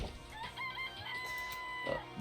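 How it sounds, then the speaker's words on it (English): A rooster crows in the video game Danganronpa, a clear game sound effect with a rising then sustained call, fairly faint and heard alone without talk. "Can we stop with the crowing every time we click on one of these?"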